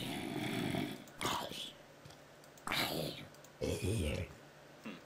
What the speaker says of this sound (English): We have some new zombie sounds here.